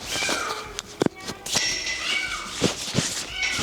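A kitten at a horse shelter, being examined at the vet, gives a few short meows amid close handling noises and brief quiet talk.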